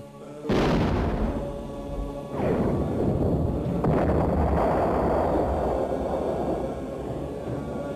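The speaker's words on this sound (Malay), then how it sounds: "Tembakkan semua meriam!" Cartoon cannons fire in a loud volley, with a big boom at the start, a second blast about two seconds later and a third soon after, each rolling into sustained rumbling.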